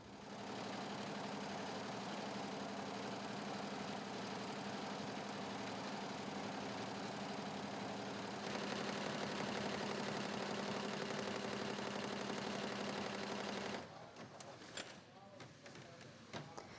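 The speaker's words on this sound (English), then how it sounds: "This 20-head embroidery machine sews logos onto pieces of BCD material." A 20-head embroidery machine sewing logos onto BCD fabric gives a steady, dense mechanical whirr and hum. It grows slightly louder partway through, then drops to a quieter, clattering tail.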